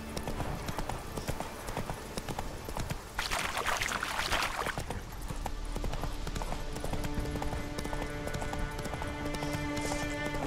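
In The Witcher 3, the horse Roach trots along with steady, rhythmic hoof clip-clops close by, a brief splashing burst partway through and light game ambience underneath.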